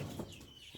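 Hybrid chickens in a yard in Trinidad give a couple of soft, brief clucks, faint and close by, with no one talking.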